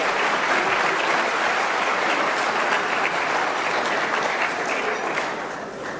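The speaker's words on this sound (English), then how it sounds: "Please give Kate another well-deserved round of applause." A large audience at a New Jersey lawyers' association gala gives a dense, sustained round of applause that holds steady before tapering off slightly at the end.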